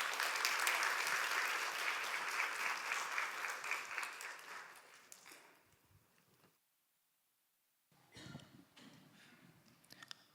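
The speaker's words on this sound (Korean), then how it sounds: "우리 주현민 전도사님 나오실 때 박수로 맞이하도록 하겠습니다" A church congregation claps in welcome at an Easter service. The sustained applause fades out, goes silent briefly, and is followed by faint shuffling and a few scattered claps.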